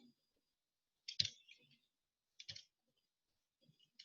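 Keys pressed on a financial calculator while working out an amortization exercise, a few sharp separate clicks well spaced apart in a quiet room, with faint speech between them.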